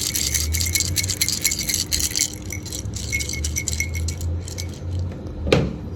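A BMW K1600 motorcycle with a faulty starter clutch gives a steady, close metallic rattle that sounds like a toy. A sharper knock comes near the end.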